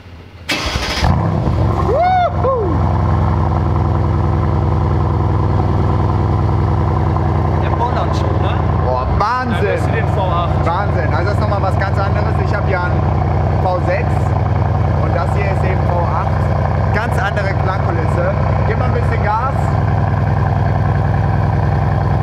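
A Mercedes-AMG C63 S starting with its exhaust flap open in comfort mode, a sharp startup bark settling into a loud, steady burbling idle, with people talking nearby over it.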